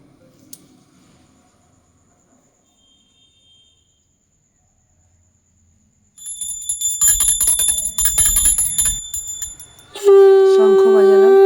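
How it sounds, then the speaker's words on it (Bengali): A worship bell rings during a Hindu puja to Gopal, quiet at first, then bright metallic ringing from about six seconds in, ending in a loud sustained tone, close by. "এরপর আমি ঘন্টা বাজাবো।"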